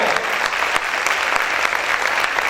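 Loud, sustained clapping from a worship congregation fills the church, a thick, even patter of many hands with a few sharper claps standing out.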